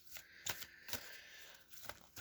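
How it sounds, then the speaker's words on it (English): Journey of Love oracle cards are shuffled by hand in quick riffling bursts, about five crisp flutters spaced through the clip, close and quiet with no talking. "back to the Journey of Love cards, shuffling for October, Capricorn"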